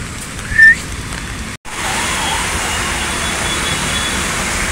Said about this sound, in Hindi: बारिश देखो भाई कैसी पड़ रही, एकदम खतरनाक बारिश पड़ रही है भाई